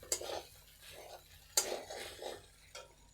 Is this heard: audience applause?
no